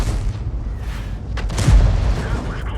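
A tank cannon firing in a tank video game, with the M53/M55 mentioned: a heavy deep boom rolls out midway over a constant low rumble, and a commentator speaks throughout.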